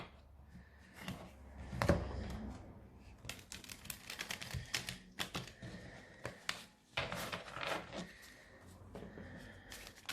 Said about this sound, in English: I just thought I'd give them another shuffle there, because they're new cards